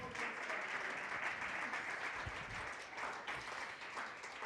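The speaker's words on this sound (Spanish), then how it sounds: "¿Por qué no le da una ofrenda de palmas al Señor?" A church congregation at a Spanish-language worship service applauds steadily and continuously, a dense wash of clapping heard at moderate distance with no break.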